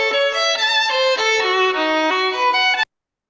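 A violin plays a short legato passage of sustained, bright bowed notes, close and clear, used as training audio for sound synthesis, then stops abruptly into silence.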